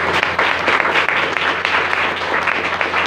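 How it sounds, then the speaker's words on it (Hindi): Sustained audience applause fills the room with dense, steady clapping for about three seconds, loud and continuous with no speech over it. "एक बार जबरदस्त ताली होनी चाहिए"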